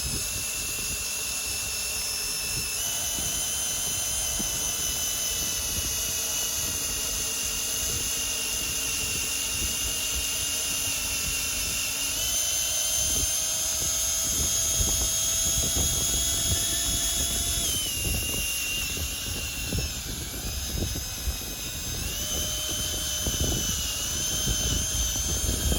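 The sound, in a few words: drill boring a hole into wooden post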